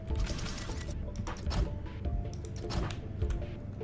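Welders working in the factory-building game Infinifactory, a dense, steady mechanical clatter with ratcheting, clicking transients and recurring brighter bursts, moderately loud throughout with no speech.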